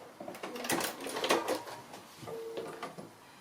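A sewing machine runs a short burst of stitches across the corner of a fabric pin cushion, a quiet mechanical whirr and clatter with a faint whine near the end.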